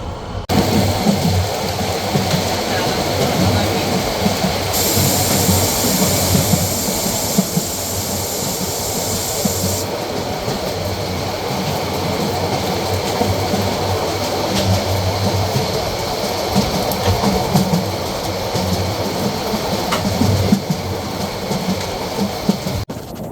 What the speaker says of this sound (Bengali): একদিকে ট্রেন জার্নি অপরদিকে ঝুম বৃষ্টি